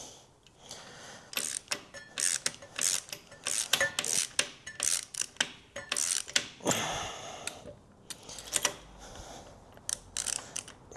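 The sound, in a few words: stud extractor unscrewing a stud on a Steyr tractor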